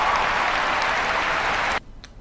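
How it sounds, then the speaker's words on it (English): Dense applause from a large crowd, part of a played highlight reel, fills the air loudly for under two seconds and then cuts off sharply into near silence. "Seems like most of this highlight reel is just padded out with applause"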